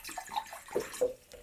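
Water is poured off from a container while making mint wine, giving a short run of splashing, gurgling pours in uneven bursts, close and moderately loud.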